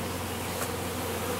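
Bees at a newly installed hive hum in a dense, continuous buzz, close and steady throughout, with no voices.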